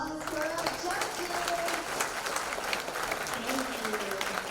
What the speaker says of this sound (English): Let's get another round of applause for our judges.